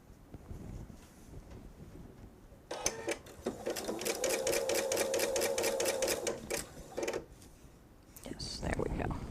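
A sewing machine stitches a jelly roll quilt in a rapid, even burst of a few seconds with its bobbin running low, quiet before and after, with faint room noise around it.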